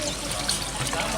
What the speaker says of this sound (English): Water in the top goes through the material and out the bottom.